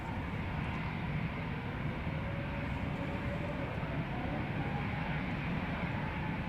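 An EasyJet A320 airliner departing Amsterdam Schiphol gives off a broad, steady engine roar, a low rumble held at an even level throughout, moderately distant with no voices over it.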